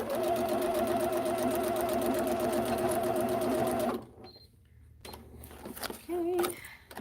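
A sewing machine runs steadily for about four seconds, backstitching, with a close mechanical whir, then stops and leaves quiet handling noises.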